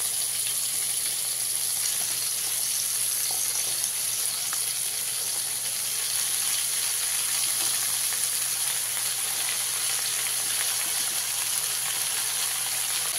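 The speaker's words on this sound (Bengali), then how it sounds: "বেগুনটাকে অল্প কিছু সময় আমি ভেজে নিই" Eggplant frying in a pan gives a steady, even sizzle that holds unbroken from start to finish, close and moderately loud, with no voices.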